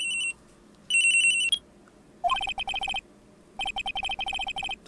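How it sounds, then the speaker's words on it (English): Electronic cell phone ringtone from the Ace Attorney: Trials and Tribulations video game, bursts of bright beeping tones repeating in clipped rhythmic phrases, loud and close with short silences between, no talk. "At around 10:30, I received a call on my cell phone."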